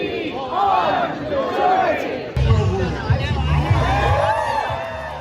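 Protest crowd at the No Kings protest in Washington, D.C.: a large crowd cheering and shouting together, loud and sustained with overlapping voices and swelling cries, a low rumble joining partway through.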